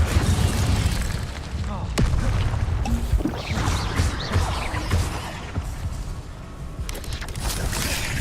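Incendio fire spell being cast in the video game Hogwarts Legacy, a dense run of booming, crashing bursts and impacts layered over constant game sound, with a voice heard through the clip.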